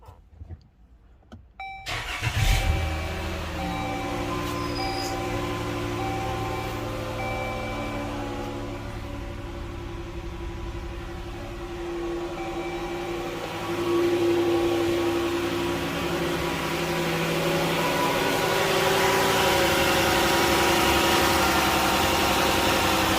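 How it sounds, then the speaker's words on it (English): A Dodge engine turns over and catches, then settles into a steady idle with a low hum and vibration that swells slightly in volume midway. "So let's go start the engine."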